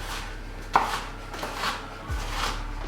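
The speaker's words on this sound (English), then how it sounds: "And then I'm going to gently dice the onion." A knife dices an onion on a chopping board, giving one sharp tap followed by a few soft, scattered cuts close by over a low background hum, with no talking.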